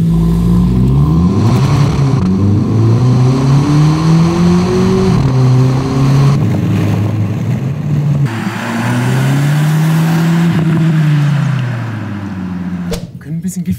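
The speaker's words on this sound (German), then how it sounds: "Das heißt, wir fahren jetzt hier vorbei, nacheinander." A Hyundai i20 N and a VW Polo GTI drive past one after the other, their engine notes rising and falling as they accelerate, heard loud and close from inside a car while people talk throughout.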